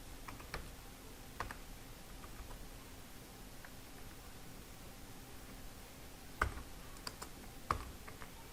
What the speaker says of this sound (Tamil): இப்போ நான் அதை 1 by 1 டைப் பண்ணுறேன்.